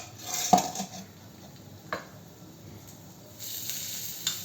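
Ragi flour roasts in a pan with a quiet, steady sizzle, broken by a few sharp clinks and scrapes of a utensil against the metal as grated coconut goes in; no one speaks.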